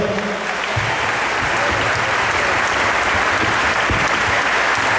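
Loud, sustained applause from a church congregation during a sermon, thick continuous clapping from many people close by, steady throughout with no talk over it.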